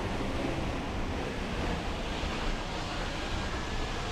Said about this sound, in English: It is an exciting feeling to pass behind a waterfall like this one.